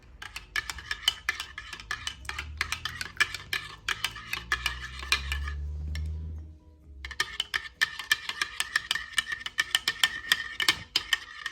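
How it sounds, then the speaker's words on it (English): A spoon scrapes and clinks rapidly against a cup while stirring a chocolate drink, close and rhythmic. It pauses briefly midway, where a low rumble sounds, then the quick clinking resumes. "And now we are going to stir."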